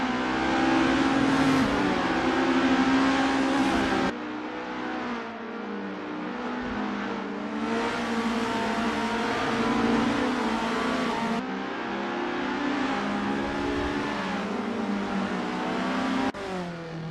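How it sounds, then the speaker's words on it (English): Isuzu Bellett GTR race cars lapping Sportsland SUGO in the Assetto Corsa racing game, engines revving loudly and continuously through gear shifts and passes with no talk. "Here's Dominic Fovard weaving through traffic."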